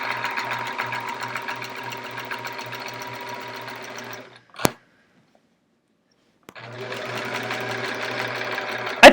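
A sewing machine quilts the final in-the-ditch row of a chevron quilt with a steady, close mechanical hum. The stitching stops briefly, a sharp click is heard, and a short silence follows before the stitching resumes.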